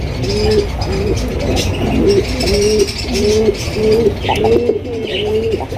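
A female pigeon coos in a steady series of soft, close, repeated hum-like calls, about eight evenly spaced phrases with no talking over them.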